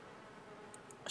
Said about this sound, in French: Ruche vide, abeille agacée.